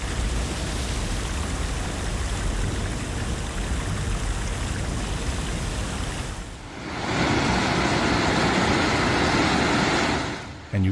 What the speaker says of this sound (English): Mix fast-moving water with heavy sediment, and the force can jump dramatically.